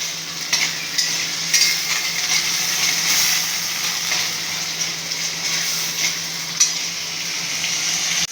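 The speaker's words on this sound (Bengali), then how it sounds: "এবার মটরটাও একটু ভেজে নিব, কষে নিব" Green peas fry in a pan for matar paneer, a loud continuous hiss of hot oil with a few stirring scrapes and clicks rising above it, close up and with no talking.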